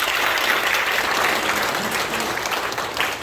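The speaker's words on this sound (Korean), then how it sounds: "박수하시겠습니다." Steady applause fills a church hall at an ordination ceremony marking a congregation's 45th anniversary, a dense, even clapping from many hands that holds at the same loudness throughout with no voices over it.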